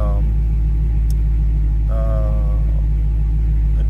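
A 2018 Dodge Charger Scat Pack idles with a steady low rumble just after start-up, joined by brief electronic chimes from the dash, loud and close inside the car.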